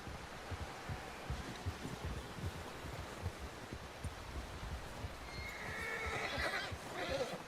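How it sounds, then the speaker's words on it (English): Horses in Red Dead Redemption 2 snort and whinny over a steady patter of hooves, a dense rumbling clatter that swells toward the end with faint voices in the mix. "Someone help John down off this horse"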